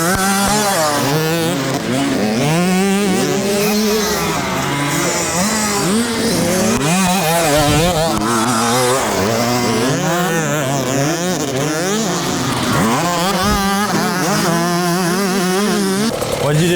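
Dirt bike engine revving loudly and continuously, pitch rising and falling as the throttle is opened and eased off, close by with no pauses.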